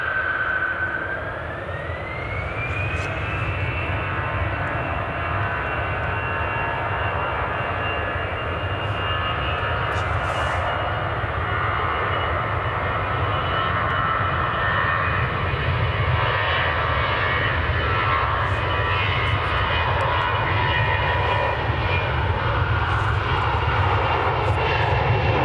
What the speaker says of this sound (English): this EasyJet is going to Corfu and is an A320 again